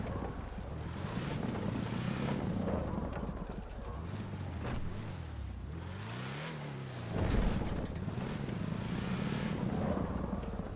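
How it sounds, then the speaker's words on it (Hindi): A loud, rumbling, tractor-like vehicle engine in a GTA off-road race drones throughout, its pitch rising and falling as it revs, with a sharper surge near the end. "इसके अंदर लग रहा है ट्रैक्टर का इंजन लगा दिए हैं"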